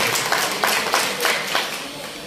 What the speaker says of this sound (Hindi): तालियां बजाइए हमारे सभी पत्रकार मित्रों के लिए।